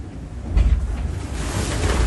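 Ocean waves and spray batter a racing sailboat near Cape Horn in cold, foggy seas, heard as a steady broadband wash with wind rumble and a louder surge of water midway, no talking.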